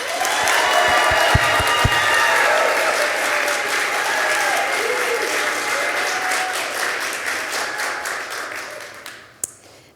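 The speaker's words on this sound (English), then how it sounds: "If we can get a round of applause for Sayana Scott." Audience at a youth entrepreneurship competition gives a round of applause for a competitor: dense, continuous clapping from many people that swells briefly, then thins and fades out near the end, with a few stray voices.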